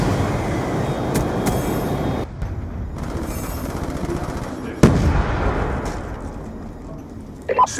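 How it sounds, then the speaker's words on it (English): Hellstorm missile strike explosions in Black Ops 2 on the Hijacked map, a dense rumbling barrage with one sharp loud impact midway, under continuous battle noise and game announcer voice. "Hellstorm missile inbound."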